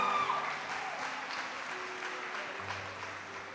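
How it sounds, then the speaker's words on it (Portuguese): Applause from an audience at a Catholic community festival, a steady wash of clapping held at moderate level for a few seconds, with faint tonal background sounds and no clear talk over it. "Uma salva de palmas para ele"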